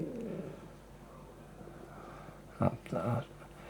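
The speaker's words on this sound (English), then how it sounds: "Disturbing that pigeon again." A pigeon coos under a river bridge: a couple of short, low, throaty coos near the end, over steady outdoor background noise.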